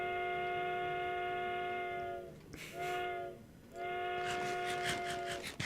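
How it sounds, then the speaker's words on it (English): Steam train whistle in a video game, blown in two long harmonic blasts with a short gap, clear and steady, with brief bursts of noise between and after them. "Nice touch with the whistle."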